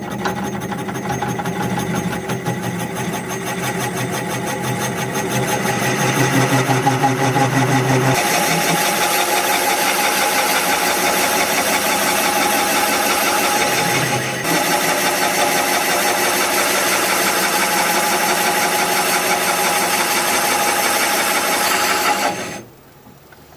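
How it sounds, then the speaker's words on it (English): A 2 3/8 inch Forstner bit bores into a wood tenon held in the chuck of a lathe spinning at 350 RPM, giving a steady loud drone and grinding that runs almost unbroken and then stops abruptly at the end. "I've got a 2 3/8 inch Forstner bit here. So with the lathe spinning forward at"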